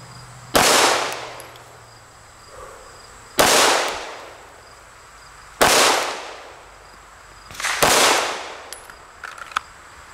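A Smith & Wesson M&P pistol fitted with an RMR sight is fired outdoors at a range, four sharp, loud single shots spaced about two seconds apart, each with a brief echoing tail, with faint insect-like buzzing in the background.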